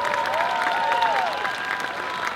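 Audience applause at a Pokémon junior video game national championship final in 2013, a steady wash of clapping from a crowd, close and sustained throughout, with a voice faintly audible.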